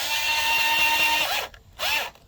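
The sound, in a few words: unscrewing the Roomba S9 lid screws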